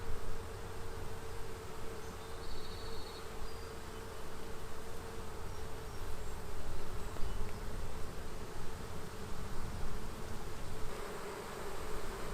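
Honey bees drone in a dense, steady buzz on a hive frame crowded with queen cups, heard close and continuous throughout with no talk.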